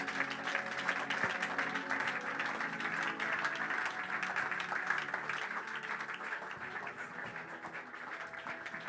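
A church congregation claps continuously and evenly for several seconds, a dense roomful of applause with a faint murmur of voices underneath, holding steady then easing slightly.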